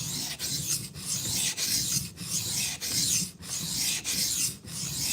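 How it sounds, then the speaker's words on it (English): A knife blade is worked against 400-grit abrasive in a steady loud rasping grind, broken by brief regular pauses as each stroke ends, with no talk. "I feel like this 400 grit is maybe not as aggressive as I would like, but it is doing the job."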